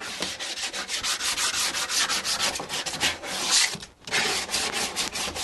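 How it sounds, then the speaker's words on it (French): Wooden edges of a dry toilet under construction are hand-sanded with steady, scratchy back-and-forth strokes. The rubbing is close and continuous, with one brief pause near the end. "je vais d'abord poncer mes arêtes de bois"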